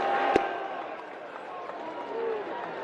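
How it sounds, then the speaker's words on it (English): Baseball crowd at a Washington Nationals at Chicago White Sox game rising to its feet in the ninth inning, a steady broad roar of cheering fans filling the stadium with a sharp clap or crack near the start. "Fans rising to their feet, trying to cheer on Dominguez on the mound."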